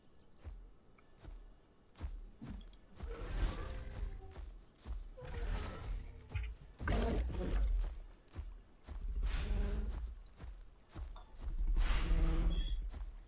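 A deep, drawn-out dinosaur roar from the video game Path of Titans with a quadruped mod, swelling in several loud rumbling waves mixed with thuds and game ambience.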